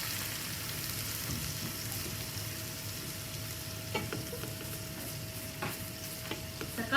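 Chopped tomatoes fry in a pan for prawn biryani, a steady, faint sizzle with occasional soft stirring scrapes and no voices.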